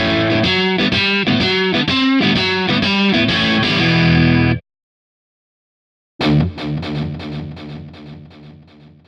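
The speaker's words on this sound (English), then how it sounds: "So you can control the amount of distortion with your playing technique" An electric guitar through a Kemper Profiler stack amp profile plays heavily distorted chords, stops abruptly into silence, then resumes with another distorted riff that fades.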